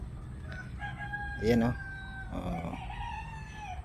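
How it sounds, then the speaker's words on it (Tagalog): An Ayam Cemani rooster lets out a clear crow at close range, rising over steady background chatter and other bird noise, with a person speaking briefly nearby. "Yan po yung pinakamahal na manok sa buong mundo."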